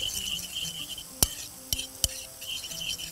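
Light clinks and scrapes of a utensil against a bowl while a chicken and bean salad is tossed with lemon, salt and pepper, three sharp taps standing out over a faint steady hiss; no one speaks.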